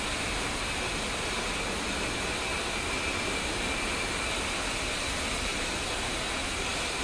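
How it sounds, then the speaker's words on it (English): The right jet engine of an A-10C in the DCS flight simulator spools up as a steady, broad roaring whine with a high hiss, loud and unbroken throughout. "we're going to go ahead and start the right engine."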